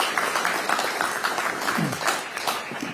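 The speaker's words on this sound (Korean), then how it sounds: "박수 한번 보내주십시오." Audience applause at a Gyeongnam political event, a dense crowd clapping steadily and continuously at moderate volume with a faint voice briefly underneath.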